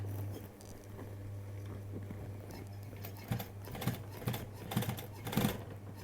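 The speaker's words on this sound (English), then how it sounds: "I'm just going to sew with the edge of that foot on the left side, and I'll follow that row of stitching" A sewing machine stitches a seam on a leather jacket. A steady mechanical hum runs throughout, and several short bursts of stitching rise over it toward the end, close and moderately loud.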